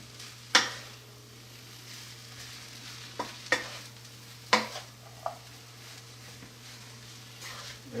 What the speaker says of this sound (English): you give it a nice little stir, dig down deep,